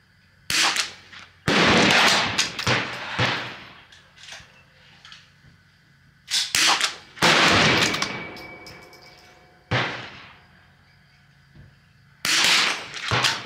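Rifle shots with Eley club ammunition at an outdoor target range, several loud sharp cracks spaced irregularly a few seconds apart, each with a ringing decay, close and dominant.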